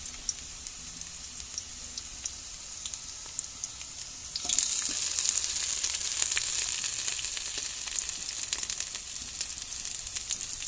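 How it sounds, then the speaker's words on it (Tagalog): Shrimp sautéing in a hot pan, a steady bright sizzle that jumps louder about halfway through as more food hits the oil, continuing as an even close-up crackle with no talk. "Igisa muna natin yung hipon bago yung mushroom."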